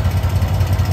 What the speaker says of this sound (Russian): Чё цокает, брат, выхлоп?